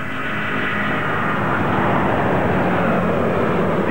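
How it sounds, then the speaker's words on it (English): A large 420-ton passenger jet roars down the runway on its maiden-flight takeoff, a dense, steady, loud engine rush with broadband hiss that builds slightly over a few seconds, with no talk. "These the first few seconds of a plane that could be with us for 30 or 40 years."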